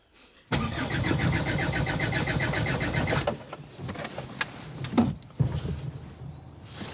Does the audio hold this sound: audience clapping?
no